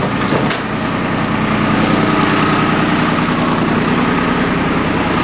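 A Yanmar YM1401D four-wheel-drive diesel tractor engine runs at a steady idle, close and loud, with an even low throbbing that holds without change and no talking.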